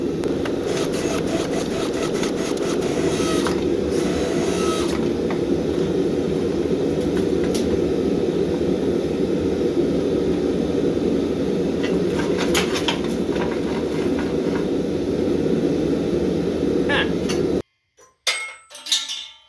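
A blacksmith's forge roars with a steady, loud, continuous rush, with scattered clanks over it, until it cuts off abruptly near the end, followed by a few brief knocks.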